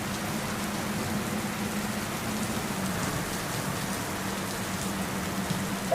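Steady rain falls on a surface as a constant, even hiss with soft patter, without a break, and a short burst of noise at the very end.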